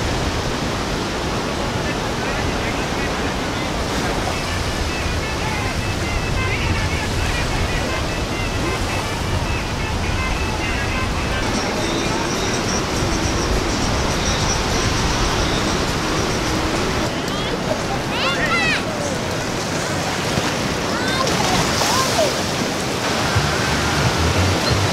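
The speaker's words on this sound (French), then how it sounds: "je peux vous aviser que les vagues sont très grandes" Large Caribbean sea waves breaking on the shore near Puerto Viejo, a constant broad roar of surf with wind, steady and loud throughout the whole stretch.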